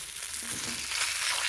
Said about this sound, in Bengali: তো একটু সময় দিয়ে ভাজছি, একটু লাল করে ভাজবো মাছগুলোকে।